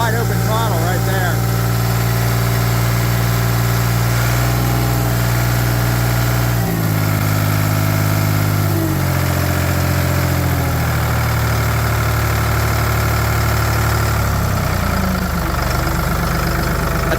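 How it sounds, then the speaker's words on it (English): A 1984 Ford 340A industrial tractor/skip loader engine runs at wide open throttle, a loud, steady low mechanical drone with shifting pitch and vibration, and a voice talks over it now and then. "Wide open throttle right there"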